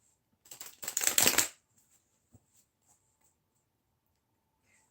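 Tarot cards are shuffled by hand in a brief, close burst of riffling for about a second, then the room goes nearly silent apart from a few soft taps.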